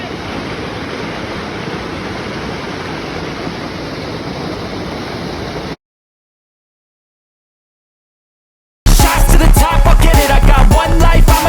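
A waterfall near Rishikesh roars with a loud, steady wash for several seconds. It cuts abruptly to silence, then to a different, busier sound.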